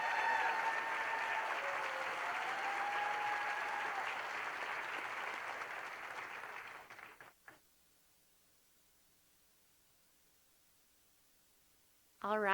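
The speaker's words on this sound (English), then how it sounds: "Let's give her a big warm round of applause." Warm applause from an audience at a school district celebration, a dense crowd of clapping that runs for about seven seconds before stopping abruptly, followed by near silence and a brief sound at the very end.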